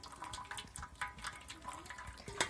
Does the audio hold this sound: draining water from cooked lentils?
yes